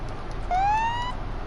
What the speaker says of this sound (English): Sometimes I have to blip the siren again